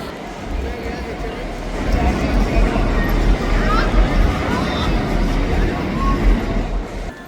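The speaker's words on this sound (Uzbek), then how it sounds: "Do'konning ichida yuradigan poyezdni ko'rganmisizlar, do'stlar? Ovozlari ham bor ekan mana." A small train rumbles and rattles along at close range inside a shopping mall, the Leela Ambience in Gurugram, amid a busy indoor crowd murmur, its low clatter steady throughout.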